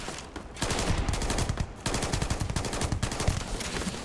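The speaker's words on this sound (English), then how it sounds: "I'm just gonna shoot in your general direction." Sustained automatic gunfire from a weapon in the space game Starfield, a rapid continuous rattle of loud shots with brief pauses between long bursts.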